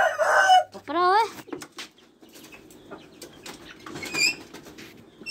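Chickens on a small farm near Lahore, with a loud close rooster crow at the start, a second crow right after, then scattered clucks and wing flaps, and another crow near the end.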